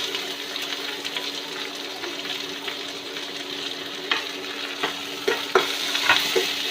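Chopped onions with green chillies fry in hot oil for potato bonda, giving a steady close sizzle with a faint hiss, and a few sharper stirring clicks toward the end.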